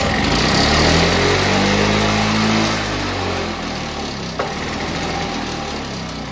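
A Victa two-stroke lawnmower engine rebuilt from junk parts runs loud and close with a buzzing drone, then its pitch drops and it settles to a lower idle after a few seconds.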